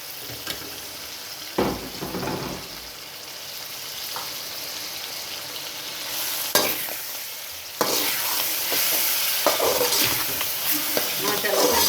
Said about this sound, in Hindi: 4-5 मिनट से भून लेते हैं।